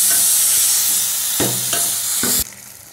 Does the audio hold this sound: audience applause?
no